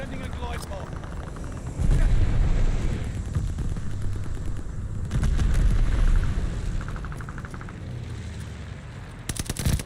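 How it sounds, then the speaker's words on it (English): Gunfire and explosive impacts from a glide bomb strike in Call of Duty Vanguard, with heavy booming bursts and crackling shots rolling over a dense battlefield rumble, loud and close throughout. "Friendly sending a glide bomb."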